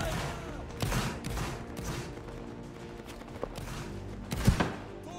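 Musket volleys in the Roblox Napoleonic Wars game, with several scattered shots and a louder crack near the end, under voices giving commands.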